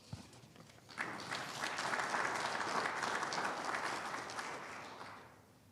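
An audience at a weed control talk claps to welcome speaker Dr. Karla Gage, a steady, full round of applause that swells quickly, holds for about four seconds and then fades out.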